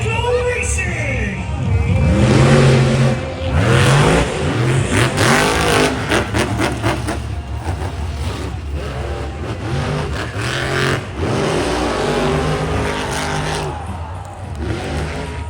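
Monster trucks race at a stadium event, engines roaring and revving loudly with rising and falling pitch, while an announcer talks over a continuous crowd-filled din.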